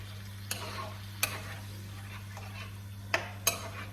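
A pan sauce with a tablespoon of balsamic vinegar is swished around, giving a few sharp scrapes and clinks over a steady low hum and faint sizzle, close and otherwise quiet.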